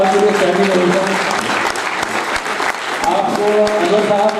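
Loud audience applause and a standing ovation at a live stage program of songs, dense steady clapping filling the whole stretch with musical tones underneath.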